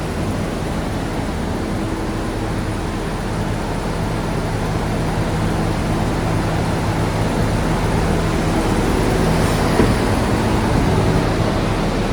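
An engine in a car on a dyno runs under a hard pull, a loud, dense, steady roar with a rising drone near the end, no voices.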